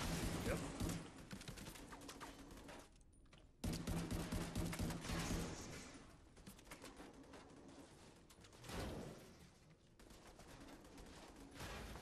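M60 machine gun fire in The Division 2, in long dense automatic bursts that stop briefly and then resume, loud and close, with mechanical clatter and other gunfire in the mix.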